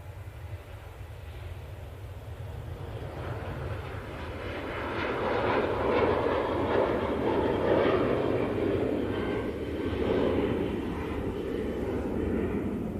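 A Ryanair jet airliner departs Manchester Airport for Berlin, a distant engine rumble building into a louder sustained roar midway and then holding steady.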